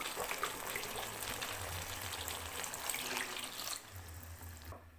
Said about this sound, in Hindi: 4 कप जो है वो हम पानी ऐड करेंगे।